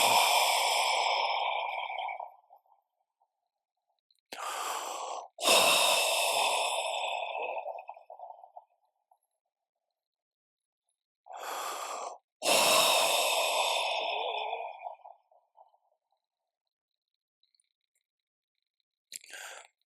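Deep breaths during a meditation session, three long slow cycles each made of a short inhale followed by a drawn-out, sighing exhale, close and clear with near silence between them.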